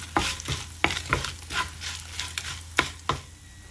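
Four or five dried red chillies fry in hot oil for a tomato mint chutney, with a busy sizzle and quick, irregular spoon clicks and scrapes from stirring, close and with no talking.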